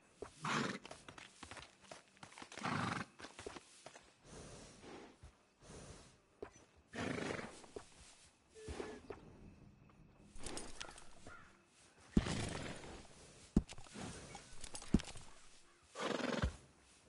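Bred horses neigh and whinny in repeated loud bursts, with intermittent hoof clip-clops between the calls and quieter gaps; no voices.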